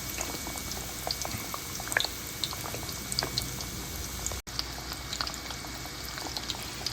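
Frozen breaded pork katsu fries in a pan, giving a steady, dense crackle and bubbling sizzle that runs throughout without talk, with a brief dropout partway.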